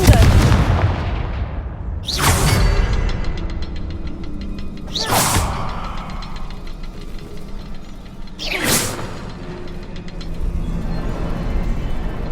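Confringo spell explosions in the Hogwarts Legacy video game: three sharp, loud blasts spaced a few seconds apart, each followed by a rumbling decay over a continuous background of game ambience.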